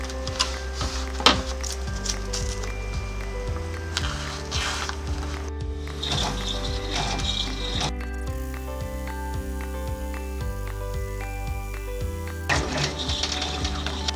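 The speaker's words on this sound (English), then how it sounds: "put it back in the hoop and run my tack down stitch" An embroidery machine runs a tack-down stitch on a hooped project, a steady fast mechanical stitching hum with rhythmic clicks, close and continuous, with small shifts in pace and no talking.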